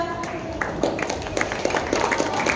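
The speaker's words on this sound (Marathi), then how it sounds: "या सगळ्यांसाठी जोरात टाळ्या होऊ द्यावे" Applause swells after a brief lull at a state youth stairs games opening ceremony, with crisp distinct claps gathering into a fuller crowd clapping, background voices faint.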